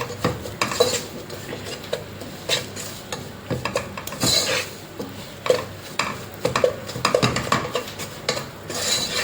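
Bitter gourd pickle mixture being sautéed over low heat in a hot pan, with steady scraping and stirring of a utensil against the pan, clinking of metal and a faint sizzle running throughout.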